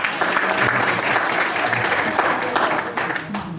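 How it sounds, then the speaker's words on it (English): A church congregation applauds warmly for a woman preaching her first sermon, a brief burst of clapping with voices mixed in over it. "Come on, let's give her a round of applause."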